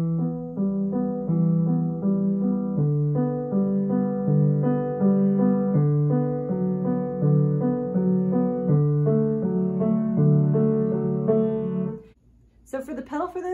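Solo piano plays a steady, flowing pattern of repeated notes for about twelve seconds before it stops abruptly and a brief noise follows.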